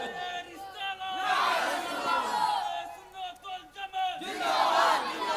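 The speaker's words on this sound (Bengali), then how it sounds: "তাকবীর তাকবীর দেব, তাকবীর দেওয়া বলে।" A large crowd at an Islamic religious sermon gathering in Sylhet shouts takbir in loud unison. Several swelling chanted calls rise and fall over a few seconds, echoing across the open assembly.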